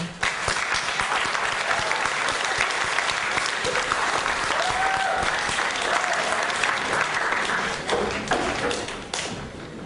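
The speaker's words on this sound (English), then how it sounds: "please give an enormous round of applause to our retiring chairman, Evelyn Gee." Enthusiastic audience applause at a retirement party for a departing chairman: dense, sustained clapping from a large room throughout, with a few whoops rising above it, gradually thinning near the end.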